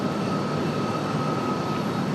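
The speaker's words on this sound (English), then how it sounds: "There's the American 777." A steady, loud engine roar from an American Airlines Boeing 777 at RDU airport, a continuous whooshing drone with no breaks and no voices.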